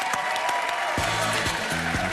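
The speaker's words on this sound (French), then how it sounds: "Je voudrais qu'on les applaudisse très très fort." Studio audience applause on a French TV game show, a steady wash of clapping at moderate level with a voice speaking briefly over it.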